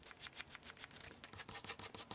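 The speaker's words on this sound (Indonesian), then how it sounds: "Setelah itu kita bentuk menggunakan kertas amplas agar bentuknya menjadi oval ya teman-teman." Sandpaper is rubbed over the wooden blade of a popsicle stick sword to round it into an oval, a close, quiet rasp in quick, regular back-and-forth strokes, about a dozen in a row.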